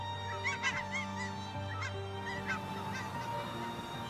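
Canada geese honking repeatedly in the wild, a cluster of overlapping nasal calls near the start and again midway over a steady low background hum, moderately close.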